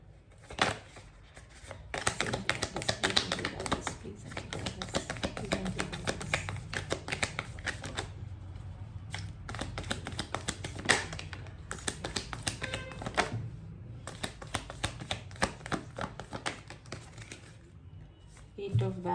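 Tarot cards being shuffled by hand in dense, papery riffling bursts with brief pauses between rounds, close and fairly quiet.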